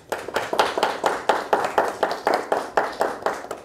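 An audience at an Easter mushaira poetry gathering claps in even, rhythmic bursts, a crisp group beat repeating steadily for several seconds with no voices over it.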